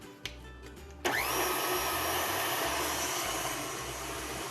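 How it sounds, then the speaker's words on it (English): An electric mixer starts with a click and then whirs steadily and loudly, blending ricotta into an egg and sugar mixture for a ricotta cake, running continuously close by with no talking. "we're gonna blend the ricotta in there with the egg and sugar mixture"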